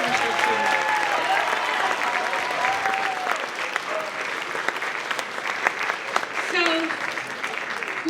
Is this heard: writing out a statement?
no